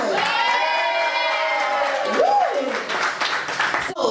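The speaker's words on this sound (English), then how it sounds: "Let me hear you cheer one more time." A talk show studio audience cheers and whoops loudly, with clapping mixed in and a single high shout rising above the crowd.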